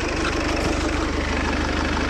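A Fiat Ulysse engine idles after running for over half an hour, a loud, steady low rumble with an even rapid pulse throughout and no voices.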